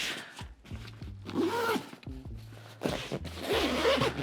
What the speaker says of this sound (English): Does it zip?